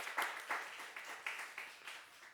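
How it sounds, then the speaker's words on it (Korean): A Sunday worship congregation in a Korean church gives a round of applause, clapping in loose repeated waves with a few sharper accents, moderately distant in the room. "우리 박수 한번 하겠습니다."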